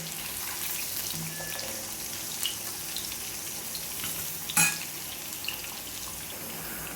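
Chicken 65 pieces deep-fry in hot oil, a dense continuous close sizzle with a few small pops and one louder clatter as pieces are turned.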